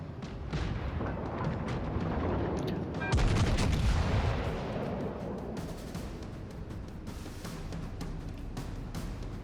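Naval gunfire from the battlecruiser HMS Repulse in World of Warships Legends: a heavy booming salvo erupts around the middle and rumbles on, with scattered further blasts and battle noise around it.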